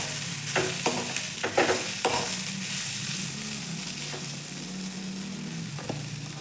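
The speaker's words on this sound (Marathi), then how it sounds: "तेल गरम झालंय. मोहरी, जिरे, वाटाणे बारीक केलेले व्यवस्थित मिक्स करून घ्यायचे." Mustard seeds, cumin and finely crushed peas sizzle and crackle in hot oil while being stirred, with a few scraping stirs standing out early over a constant close frying hiss.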